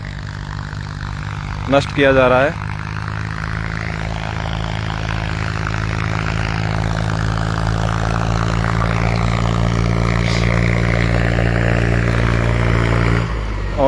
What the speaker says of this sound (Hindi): देखिए किस तरह खड़ी फसलों को इस समय ट्रैक्टर और जेसीबी के माध्यम से